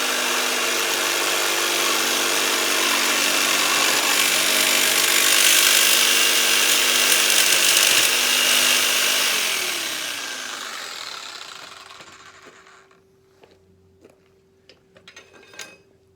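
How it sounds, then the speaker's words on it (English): A power saw screeches loudly through aluminium tube for several seconds, then winds down and stops, leaving a low hum and a few light clinks. "what I'm doing is I'm cutting up this aluminium tube"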